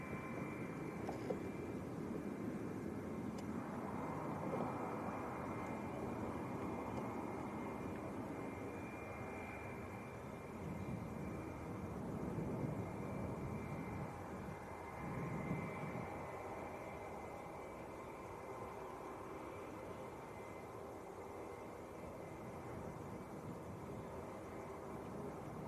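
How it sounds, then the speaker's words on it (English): A Wizz Air airliner taxis out at Leeds Bradford Airport, a faint distant jet engine roar and whine holding steady for over twenty seconds, swelling slightly in places with no talk. "Wizz also taxiing out."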